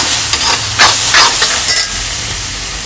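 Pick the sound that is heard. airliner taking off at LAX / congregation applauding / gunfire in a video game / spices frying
spices frying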